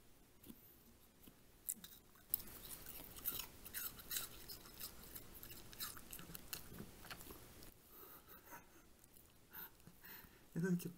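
A Kleinspitz dog chews and eats an apple, with wet crunching and biting close to the microphone in an irregular rhythm, while a person speaks softly at times.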